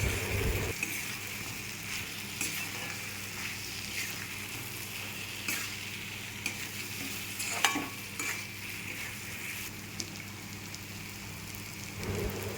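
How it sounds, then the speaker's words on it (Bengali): Fried fish-roe fritters being stirred into cooked spice masala in a pan, with soft continuous sizzling and scraping, a louder clink near the end, fairly faint and without talk. "এবার ভেজে রাখা বড়াগুলো দিয়ে ভালো করে মিশিয়ে নেব।"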